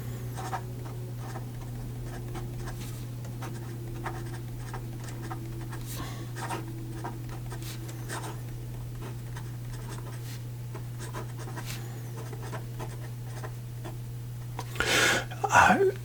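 A fountain pen with a music nib writes on paper, making faint, close scratchy strokes in irregular bursts over a steady low hum, ending in a louder rustle.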